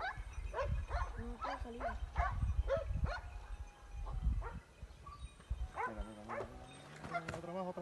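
Hunting dogs that have fallen from a cliff bark, yelp and whimper at a distance in a series of sharp calls and whines, while people talk excitedly over them.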